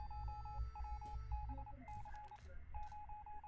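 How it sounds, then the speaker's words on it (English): Phone ringing in the survival video game 60 Seconds, a repeating electronic ring tone in short evenly spaced bursts, clear and steady over a low background hum. "A phone call?"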